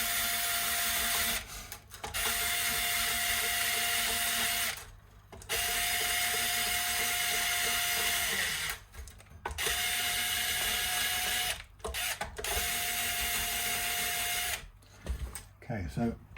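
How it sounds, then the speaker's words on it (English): A power screwdriver slackens the strings on a Stratocaster guitar, whirring steadily in long bursts with short pauses between them, loud and close, with no talking. "In fact, I'm going to use the screwdriver thing"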